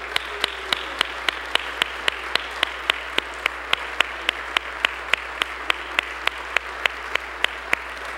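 A church congregation claps for the mothers in the room, the claps landing as sharp, evenly spaced beats in a steady rhythm, about three or four per second, over a quiet hum.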